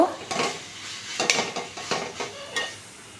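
Spoon stirring amra (hog plum) pickle in a metal pan, giving a quick run of close scraping clinks and knocks at an uneven rhythm, with no talk.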